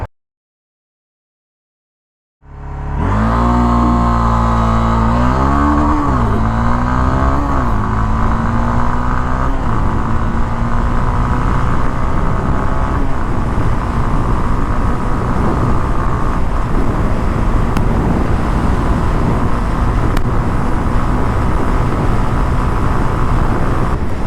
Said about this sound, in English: So that's how the CB300F react when you do an open throttle.